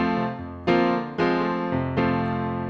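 Solo piano plays the chord progression of a song, with sustained chords that change about every second over a low bass note and ring on smoothly with no voices.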